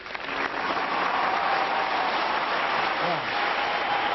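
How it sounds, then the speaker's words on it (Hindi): Studio audience on a Pakistani comedy talk show applauding steadily and loudly for about four seconds, a dense, even wash of clapping with faint cheering mixed in. "हमारे पॉलिटिशियंस के नाम पे तालियां और शोर।"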